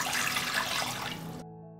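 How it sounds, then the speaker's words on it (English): A liter of water pours steadily into a pot, a close, continuous rushing splash that cuts off sharply near the end, leaving only a faint ringing tail. "I pour a liter of water into the pot."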